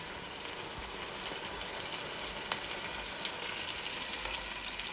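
Passata poured into a pan of frying onions, giving a soft, steady sizzle and bubbling hiss at low volume with a few small pops.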